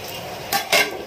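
Dishes and cutlery being washed in a home kitchen, two quick clinks and scrapes of utensils over a low background hiss, close and brief.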